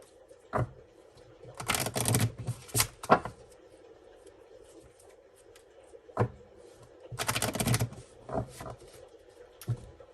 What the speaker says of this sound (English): I'm just going to go ahead and shuffle a few more times